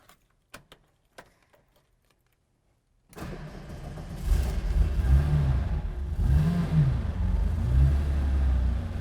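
A rare Porsche 964 Carrera RS Clubsport fires up after a few faint clicks, then settles into a loud, close, rumbling idle with two rising revs blipped in the middle, heard from inside the sparsely insulated cabin.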